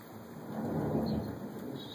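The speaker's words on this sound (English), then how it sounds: "Still thunder." Thunder rumbles through a sleet storm, a broad low roll that swells toward the middle and fades slowly, with steady precipitation hiss beneath it and no voices.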